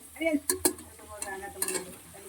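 Fish curry sizzles softly in a pan with clinks of a utensil stirring, and faint voices in the background.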